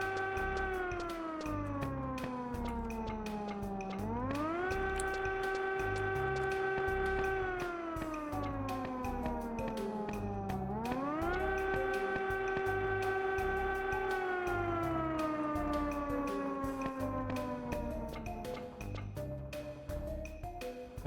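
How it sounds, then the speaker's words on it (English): A wailing siren in a Final Fantasy XI game area rises and falls in long, loud, steady sweeps, repeating twice and filling the whole stretch with no talk over it. "A siren? That is the siren."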